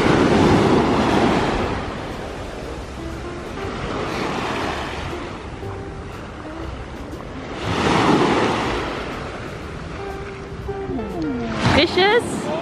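Sea waves break on a crowded beach in slow, rolling washes that swell and fade, with wind buffeting the microphone and people talking over the surf.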